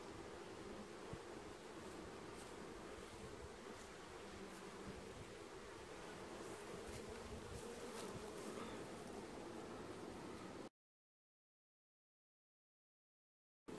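Honey bees buzz steadily around an open hive during an inspection, a close, continuous drone with faint rustling that stops abruptly near the end before a brief return.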